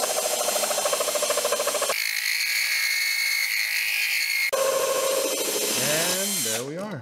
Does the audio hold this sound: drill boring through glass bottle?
yes